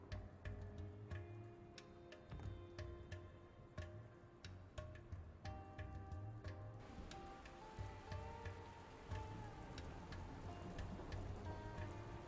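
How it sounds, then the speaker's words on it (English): Rain in the video game Dustland Delivery: continuous patter of drops ticking on a surface with sharp clicks, steady and moderately loud, alone without talk. "this planet should be water world with all this stupid rain"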